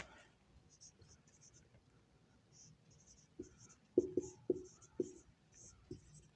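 Chalk or marker tapping and scraping on a classroom board during a Hindi language history class, a few sharp knocks and short strokes near the end over quiet room noise.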